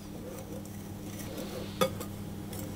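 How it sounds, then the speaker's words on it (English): Flour, ground almonds, icing sugar and lemon zest stirred together in a bowl, a soft steady scraping with a sharp clink of the utensil against the bowl near the end. "I'm going to give those a good mix around to get them all combined with each other"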